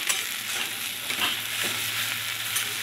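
Poppy seeds fry with a little sugar in a pan, giving a steady close sizzle with light stirring scrapes throughout and no voices.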